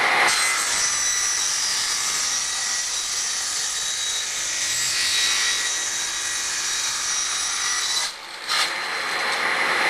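A saw blade cuts scrap wood while making bars for foundationless beehive frames, giving a loud, continuous grinding rasp for about eight seconds, then a brief dip and a short second pass.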